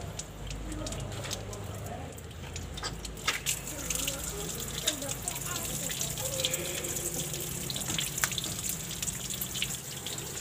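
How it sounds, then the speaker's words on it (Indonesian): Coolant water drains and gushes from an opened car radiator, a steady, close splashing flow running the whole time with a low mechanical hum beneath, while someone speaks over it. "Kita buka tutup radiatornya supaya airnya nanti lancar."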